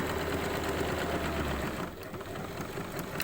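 Sewing machine stitching the seam of a lapped zip, a fast steady mechanical whir close by that stops partway, leaving quieter handling sounds.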